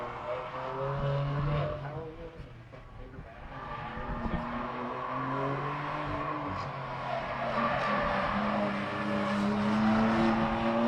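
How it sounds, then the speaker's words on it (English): A Tesla race car rounding a track on its final lap of a morning session at NOLA, giving a sustained, steady whining drone with tire noise that swells slightly as it nears. "the Tesla finishes up his final lap"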